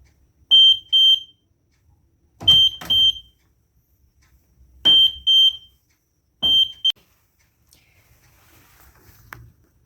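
A homemade vibration-sensor alarm's electronic buzzer beeps in four short bursts, each a doubled high-pitched tone triggered by a light knock, with quiet gaps between.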